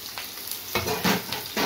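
Two onions cut into cubes are added to hot oil, bursting into a loud close sizzle that swells as more pieces drop in, with stirring scrapes and no talking.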